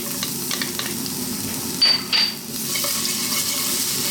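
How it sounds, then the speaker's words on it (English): Garlic dropping into hot oil in a wok over maximum heat for egg fried rice, with a couple of sharp sizzling bursts near the middle over a steady background hiss. "we're going to start off by dropping in our garlic"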